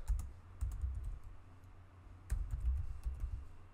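Keystrokes on a computer keyboard while a command is typed, two quick bursts of close clicks separated by a short pause.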